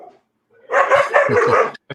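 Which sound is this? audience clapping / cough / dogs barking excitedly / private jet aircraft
dogs barking excitedly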